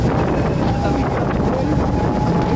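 A tour boat crosses open sea on a reef trip, heard from its open rear deck. Steady engine rumble and rushing wind fill the clip continuously at close range, with no break and no distinct voices.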